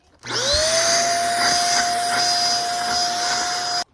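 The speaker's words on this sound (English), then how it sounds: "So I'm gonna go get the vacuum and clean all this up. So we're just gonna be using the little dirt devil today." A small Dirt Devil vacuum cleaner runs steadily at close range with a high, constant motor whine, starting abruptly and cutting off near the end, with no talking over it.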